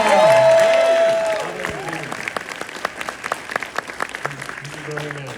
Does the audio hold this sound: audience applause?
yes